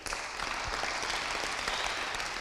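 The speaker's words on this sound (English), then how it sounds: "Can we have a round of applause, please?" A crowd at a boxing tournament weigh-in and press conference claps for the royal family, a dense, even applause that holds steady throughout.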